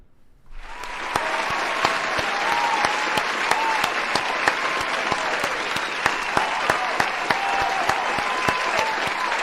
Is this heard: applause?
yes